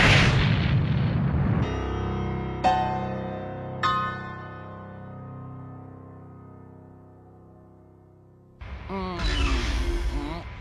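A spaceship's main cannon fires in an animated space series: a heavy roaring blast followed by two sharp ringing bursts and a long decaying metallic tone, then a loud rumbling wash of noise at the end.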